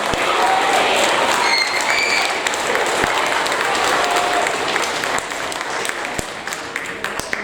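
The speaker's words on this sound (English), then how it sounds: "Give them a big round of applause." Sustained audience applause for sixth-grade students at a school awards ceremony, a dense, loud wash of many hands clapping at once that holds steady and eases slightly toward the end.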